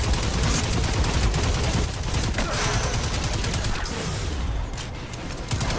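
Rapid gunfire from the video game Destiny 2 rattles on continuously and loudly, dense bursts of shots packed together for almost six seconds with only a slight dip near the end.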